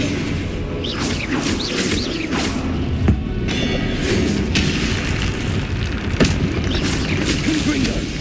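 Confringo spell explosions in Hogwarts Legacy, loud booming blasts and bursts recurring over busy game action at close range.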